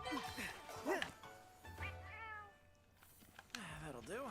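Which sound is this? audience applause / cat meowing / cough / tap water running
cat meowing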